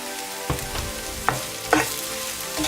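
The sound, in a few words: capsicum and mushroom sautéing and being mixed in a pan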